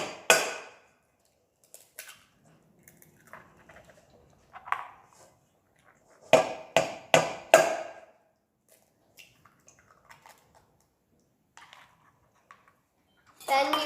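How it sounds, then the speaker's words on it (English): Two eggs cracked into a bowl for lemon ricotta doughnuts, heard as a quick cluster of sharp taps and cracks against a hard rim near the middle, with someone talking quietly around it. "Then you grab the 2 eggs and crack them into the bowl."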